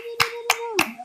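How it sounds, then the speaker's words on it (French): Three sharp, evenly spaced hand claps from a church congregation in worship ring out over a sustained sung tone, roughly one clap every third of a second. "Est-ce qu'on peut applaudir le Seigneur?"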